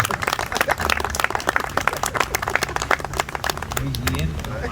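Guests at a birthday party clap in a quick burst of close, sharp applause with voices talking and laughing over it, the clapping fading toward the end.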